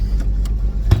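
A 1950 Studebaker truck engine runs in cold weather, a loud, close, rough low rumble with uneven pulsing beats.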